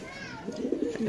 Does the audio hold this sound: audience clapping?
no